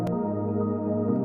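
A synth pad in a melodic house track gives a sustained, warm harmonic layer that holds steady at moderate loudness, with faint percussive ticks near the start and end.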